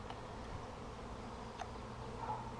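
A dense, continuous buzz of a honeybee swarm hums steadily throughout, with occasional individual bees droning closer.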